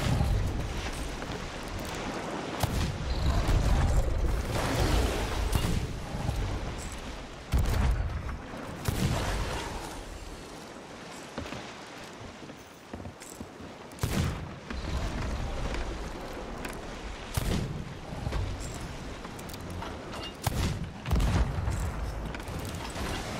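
Ship cannons firing in the pirate video game Sea of Thieves, a string of loud booming blasts at uneven intervals through roughly 23 seconds amid continuous battle noise and creaking.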